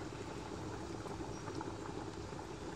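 A pot of malunggay, okra and milkfish head soup boils up close, a dense, steady bubbling hiss that fills the short moment without any voices.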